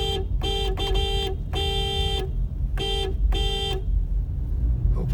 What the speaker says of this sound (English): I gotta give him the old honky, the old honk.